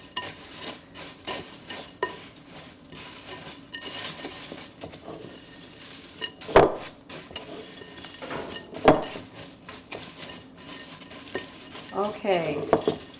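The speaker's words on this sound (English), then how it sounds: "going to pour that all over this cereal. Mix it in really well so it covers the whole cereal" Cereal being stirred together with a poured coating in a bowl for Mexican fried ice cream, giving a steady rustling scrape with a few sharp clinks of a utensil against the dish, close up and without talk.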